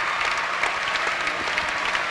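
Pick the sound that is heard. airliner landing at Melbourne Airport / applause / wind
applause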